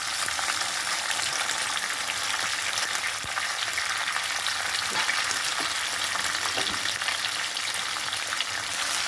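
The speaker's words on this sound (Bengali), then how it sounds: "লঙ্কাটা গ্যাসটা কমানোই আছে হ্যাঁ এর উপরে দিয়ে দেবো শিমগুলো" Whole flat beans with chili frying in hot oil, a dense continuous sizzle and crackle with occasional stirring knocks, close and steady throughout, no voices.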